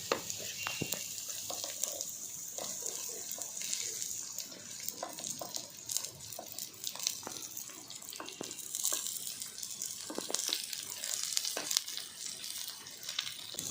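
Onions go into browned ginger and garlic frying over a traditional wood-fired stove, giving a continuous hissing sizzle with scattered crackles and scraping, while a voice speaks intermittently.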